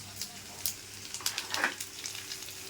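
Garlic frying in a little oil for a sweet-sour mango pickle, a faint, thin sizzle with light crackles and an occasional soft stir, quiet and steady throughout.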